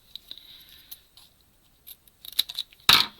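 Scissors snip through tape at a craft class: a few faint small clicks and ticks, then one sharper, louder cut near the end, close up and with no talk.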